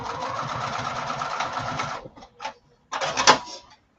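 A sewing machine stitches through a thick lining in a steady two-second rattling run, then stops, gives a brief burst, and resumes for a short final run, all close and fairly loud.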